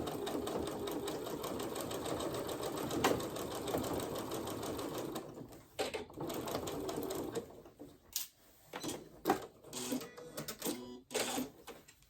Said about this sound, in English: sew up your, like do an edge stitch right at that opening